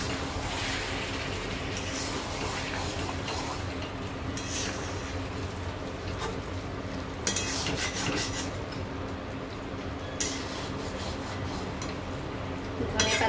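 Meat curry with coriander leaves fries in an oily pan with a steady sizzle, while a spoon stirs and scrapes and a few sharp metal clinks stand out.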